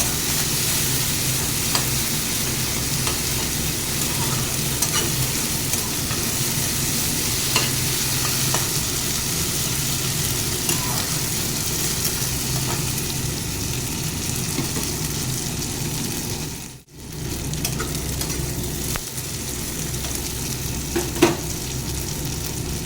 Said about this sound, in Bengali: আদা রসুন কাঁচামরিচ পেস্টটা দিয়ে দিলাম। এটাকেও আবার একটু ভালো করে কষিয়ে নেব।